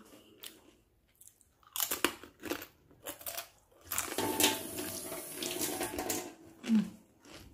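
Crunchy peyek, an Indonesian fried cracker, being chewed close up in bursts of crisp crunching with brief pauses, alongside faint watery running sounds.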